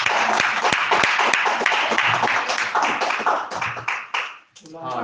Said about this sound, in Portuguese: E você aplauda ao Senhor essa noite,